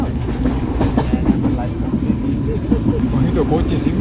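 A train rolls along its rails with a continuous low rumble and rhythmic clickety-clack, heard close as from inside a carriage, with voices talking over it.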